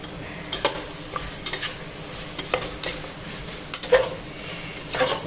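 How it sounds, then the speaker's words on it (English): Finely chopped coriander stirred into mutton frying in a pan, quiet background sizzle broken by scattered spoon scrapes and light taps against the pan, with no talking. "now to this I am going to add coriander cut finely"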